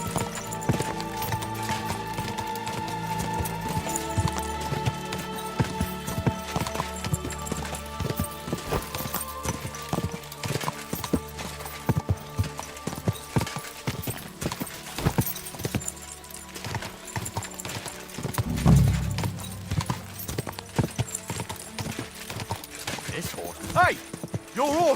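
Horse hooves clatter at a gallop through a busy medieval settlement in Kingdom Come: Deliverance II, clip-clopping steadily under game music and ambient noise, with voices shouting over them.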